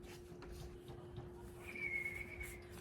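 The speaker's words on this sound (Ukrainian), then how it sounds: "я тобі сказала, що не свисти" A person whistles one short, faint, steady note indoors at home, rising out of a low background hum for about a second.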